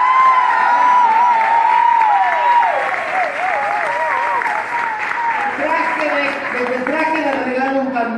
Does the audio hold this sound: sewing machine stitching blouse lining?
no